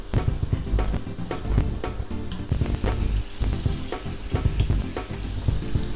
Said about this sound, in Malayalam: ഇപ്പോൾ ഉന്നക്കായ ഇവിടെ ഫ്രൈ ആയി വന്നിട്ടുണ്ട്.